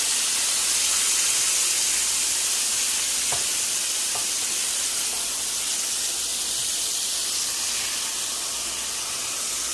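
Chicken and salmon frying in a pan, a steady loud sizzle and hiss of oil with a couple of brief clicks as pieces are handled, no voices.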